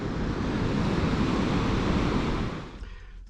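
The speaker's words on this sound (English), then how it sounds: "this is a weir" Water rushes over a weir on the Seine as a steady, loud, broad roar, with wind buffeting the microphone, then drops away sharply near the end.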